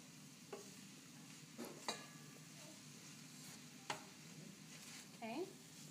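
Chorizo and bacon bits sizzle steadily in a pan for Cuban-style barbecue chicken, with intermittent scraping stirs and clinks of a utensil across the pan surface, fairly soft and without talk.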